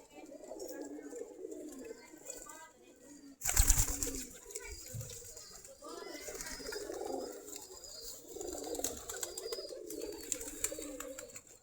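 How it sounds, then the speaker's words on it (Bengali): Native Giribaj pigeons gather near their loft after feeding, giving soft, repeated low cooing from several birds, broken once by a brief loud flutter of wings, with no talking. "আমাদের দেশি গিরিবাজ কবুতর।"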